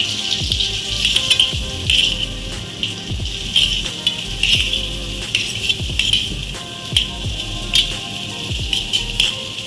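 Chopped onions for paneer butter masala frying in hot coconut oil and butter: a steady, bright sizzle with crackles and pops, rising and falling in waves as the pan is stirred.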